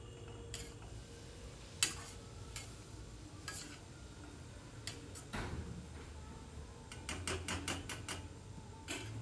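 Potato and pointed gourd korma being sautéed and stirred in a pan, with soft sizzling and scattered sharp clicks of a spatula scraping the pan, a quiet, close kitchen sound with no talking.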